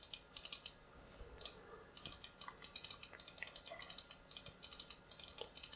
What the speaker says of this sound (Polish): Więc przyjemnie, lekko klikają, miarowo, równo pomiędzy lewym a prawym przyciskiem.